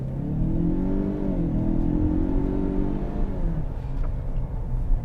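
Lincoln Corsair 2.3-litre four-cylinder, 295 horsepower, pulling hard under acceleration in excite mode: a steady rumbling engine drone with rising then falling tone, heard from inside the cabin without any voices.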